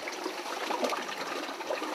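Sake drips and trickles from mash-filled cloth bags folded and stacked in a deep tub during fune shibori pressing, a soft, continuous watery patter heard alone and fairly faint.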